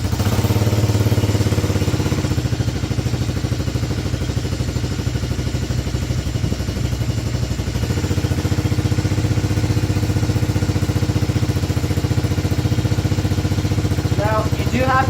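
A 110cc pit bike engine cold-starts and runs at a rough, steady idle with a close, even mechanical clatter throughout, a brief louder stretch early on and faint voices near the end.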